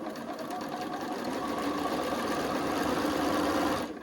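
A sewing machine stitches pieces of a Southwest-style blanket, running in a fast steady mechanical whir that rises slightly and then stops abruptly at the end, with no voices.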